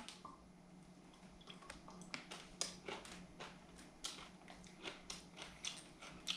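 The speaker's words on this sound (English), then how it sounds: "And you want to just keep chewing." Crunchy tortilla chips topped with hot sauce being bitten and chewed up close, a steady run of crisp crunches and wet squishy bites with no talking.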